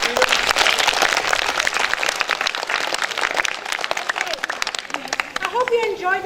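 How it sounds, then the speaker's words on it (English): Loud, dense applause from staff and students at a school robing ceremony and butterfly dance, with the clapping thinning out toward the end and cheers and voices mixed in. "Let's give her a round of applause there"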